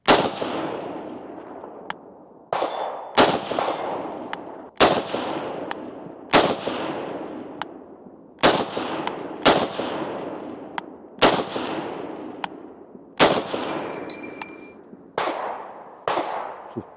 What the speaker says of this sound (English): Sargento americano atira com a Garand thumb pela primeira vez